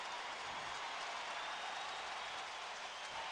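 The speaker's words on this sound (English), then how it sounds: "A big ovation from the crowd here." Baseball crowd giving an ovation after an over-the-shoulder catch on the warning track, a broad sustained wash of cheering and applause from a distant stadium audience, steady and unbroken.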